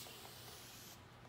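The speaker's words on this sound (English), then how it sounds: "So I've got me this fancy kind of aerosol water bottle. It's like a air pumpy type of thing." A fancy air-pump aerosol water bottle mists water during a short layered haircut. It gives one soft, steady hiss lasting about a second before cutting off, quiet and alone with no talking.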